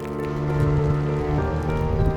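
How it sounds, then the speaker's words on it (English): Steady rain patters on a surface in the rainforest at Tikal, Guatemala, alongside a low continuous hum, close and fairly loud throughout, with no voices. "It started to rain."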